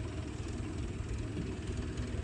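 A tractor engine runs steadily on a farm, a continuous low rumbling drone held at an even level throughout, with no voices.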